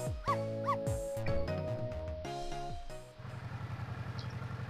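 In the Ghost Trick video game, a dog gives several sharp, close game-sound barks and yips in quick succession, followed by a lower, steady rumbling tone near the end, with no speech.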